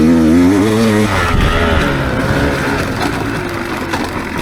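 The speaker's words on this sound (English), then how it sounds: "this one you just can tell it wants to be revved out, full tilt." A 2024 Beta dirt bike engine revs out hard and close, its rising harmonic whine climbing through the first second before settling into a loud, rough, steady roar of full-throttle riding.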